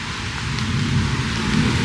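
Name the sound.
rain starting to fall during a storm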